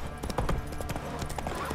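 Horse hooves clip-clop at a quick, even pace in The Witcher 3, a rapid run of hollow knocks set against a steady in-game background bed.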